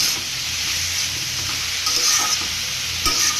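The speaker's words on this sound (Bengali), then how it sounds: "এটাকে নাড়াচাড়া দিয়ে মিশিয়ে" Frying food is stirred in a pan for a bottle-gourd leaf fritter dish, with a steady close sizzle and occasional scraping stirs, and no voices.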